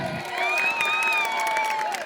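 A crowd at a gathering in Azamgarh sends up loud, sustained cheering and shouting with tonal whoops over a dense wash of voices, holding steady for about two seconds close by.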